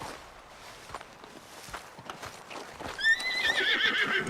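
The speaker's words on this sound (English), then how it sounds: "Get me off this horse!" In Red Dead Redemption 2, a horse's hooves clop at a steady walk before the horse lets out a loud, drawn-out whinny in the final second, with no talking over it.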